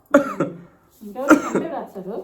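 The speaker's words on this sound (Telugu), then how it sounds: "ఓ నాయన దగ్గు వస్తుంది మధ్యలో" A person coughs several times in short, harsh bursts with throat-clearing sounds, loud and close, in two clusters separated by a brief pause.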